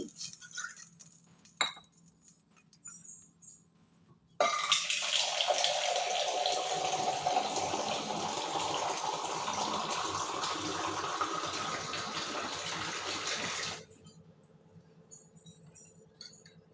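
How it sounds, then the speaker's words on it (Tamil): Water and tamarind water pour steadily into a pot for about nine seconds, a full splashing rush, framed by light clinks of metal and glass before and after. "ஒரு டம்ளார் புளி தண்ணி ரெண்டு டம்ளார் தண்ணி விட்டுருக்கேன்"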